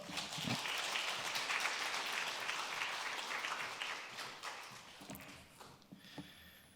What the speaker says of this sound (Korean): 큰 박수로 환영해 주셨으면 좋겠습니다